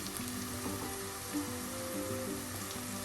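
Chili, Kashmiri chili, coriander and pepper powders sauté in a pan for Naden Para fish curry, giving a faint, even sizzle with a low background hum and no talking.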